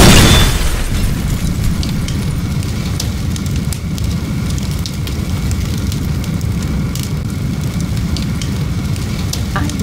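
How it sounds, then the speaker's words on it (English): A heavy, rumbling barrel explosion in a video game right at the start settles into steady crackling fire and scattered pops that continue loudly throughout. "a couple of barrels could make an atomic explosion"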